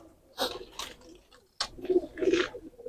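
A pigeon recovering from Newcastle disease coos softly nearby, several short throaty coo phrases in two bursts, with no talking over them.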